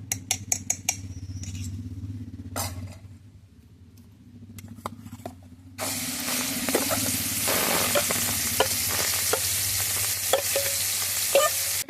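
Oil heating in a kadai for frying kachori dough and spices, first a few sharp clinks and faint stirring, then a loud steady sizzle bursts in and crackles continuously with occasional pops for the rest of the stretch.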